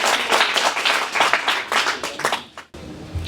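Audience applause at a women's rights month closing ceremony in South Kivu, dense clapping that fills most of the stretch before cutting off abruptly near the end.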